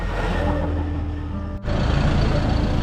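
A repaired truck idling loudly at the roadside, a deep, steady engine rumble that briefly dips before resuming even louder, heard close by.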